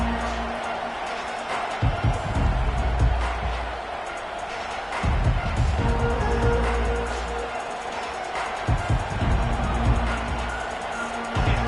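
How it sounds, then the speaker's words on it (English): A packed college football stadium crowd roars steadily through the opening kickoff of a Nebraska Cornhuskers game, a dense continuous wash of cheering with a few swells, loud and enveloping throughout. "This crowd trying to show them what it's going to be like all day in this house."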